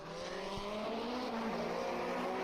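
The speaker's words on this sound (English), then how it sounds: "Handbrake turn at the hairpin." A 1950s Grand Prix race car in a racing video game swings through a handbrake turn at the Dundrod hairpin, its engine droning steadily with rising and falling tones and a faint hint of tyre scrub.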